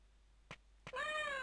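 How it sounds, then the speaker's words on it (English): A kitten, likely a stray cat outside a house, gives one clear, loud, drawn-out meow after two short soft knocks or thumps, heard alone in a quiet room. "Sounds like a kitten."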